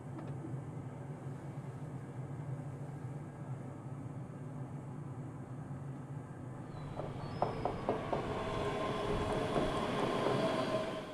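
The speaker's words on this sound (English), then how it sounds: "now we're departing from platform 10 for Glasgow Central" A passenger train pulls out of the station for Glasgow Central, first a steady low rumble, then rising wheel and rail clatter with rhythmic clicks as it gathers speed, heard from inside the cab.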